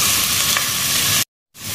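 Chopped medium onions frying in hot oil in a pan for tuna fish cutlets, a steady loud sizzle that cuts off abruptly near the end, then resumes briefly after a short silence.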